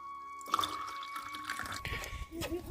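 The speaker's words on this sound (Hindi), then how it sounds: "और इसके बाद इसमें मिला देंगे पानी।" Water poured into juice in a glass bottle, a short close splashing trickle with a few drips, running about two seconds.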